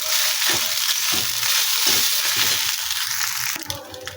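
Lapsi (broken wheat) sizzles steadily as it roasts in ghee in a pan, a close, continuous hiss with soft stirring scrapes throughout.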